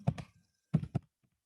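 Calculator keys being pressed to enter numbers: two quick pairs of soft, close taps separated by a short pause, heard alone.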